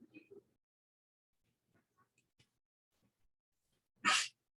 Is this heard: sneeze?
yes